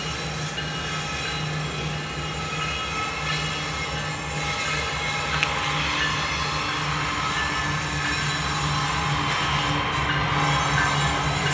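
CSX freight train rolling through the Hamlet diamond in Hamlet, North Carolina, a steady continuous rumble with low engine hum and faint high rail squeal, held at an even level from start to finish.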